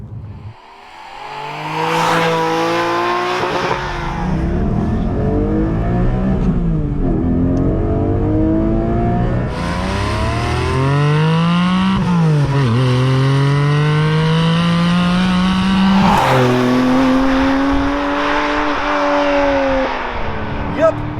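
A Porsche 718 Cayman GTS 4.0 engine is revved hard toward its red line, rising in repeated pulls to a loud high-pitched scream above 7,000 RPM, dropping back and climbing again, with someone talking over parts of it.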